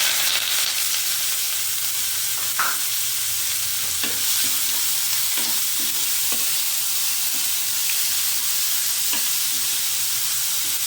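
A large onion, four green chillies and curry leaves fry in six teaspoons of oil for an egg curry, giving a loud, steady sizzle with occasional spatula scrapes against the pan.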